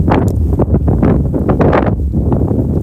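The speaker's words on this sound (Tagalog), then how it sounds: "Lakas ang hangin nyo, oh." Strong wind buffets the microphone in continuous low, rumbling gusts among canola flower fields in Japan, loud and close throughout with no voices.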